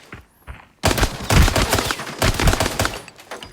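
A scav fires in a farm raid in the game Arena Breakout, a dense burst of rapid gunfire that begins abruptly after a brief quiet lead-in and rattles on loudly with layered shots to the end.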